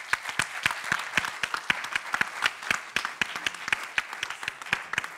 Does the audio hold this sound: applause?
yes